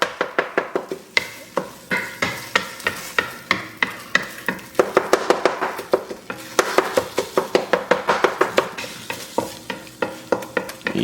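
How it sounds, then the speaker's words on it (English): A spoon scrapes and stirs food in a pan at a steady, brisk rhythm, with faint sizzling of frying underneath; the strokes are close and loud, with no talking. "Give that a good stir."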